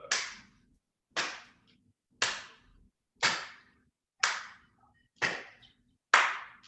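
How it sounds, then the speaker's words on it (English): Seven sharp hand claps spaced about a second apart during a qi gong exercise, each crisp and close with a quick decay, alone in a quiet room. "let's clap in front, up high,"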